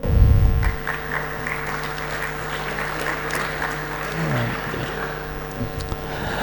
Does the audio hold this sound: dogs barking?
no